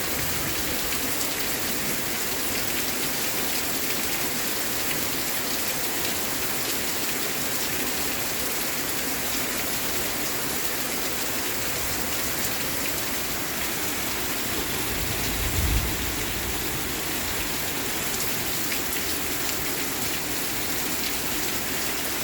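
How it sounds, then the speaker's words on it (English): Heavy rain pours off a porch roof onto the ground below, overflowing the gutters in a dense, unbroken hiss that stays loud and close throughout, with a single brief thump midway. "This is how hard it's raining. That's coming off the porch roof."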